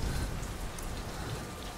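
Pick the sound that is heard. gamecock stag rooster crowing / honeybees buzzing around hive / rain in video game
rain in video game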